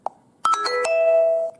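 A BlackBerry Priv 'Contentment' notification tone: a soft blip, then a quick cluster of bright chime notes settling into one sustained, ringing tone that fades out after about a second, heard alone.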